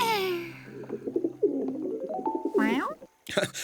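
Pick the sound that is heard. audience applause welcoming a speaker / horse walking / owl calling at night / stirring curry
owl calling at night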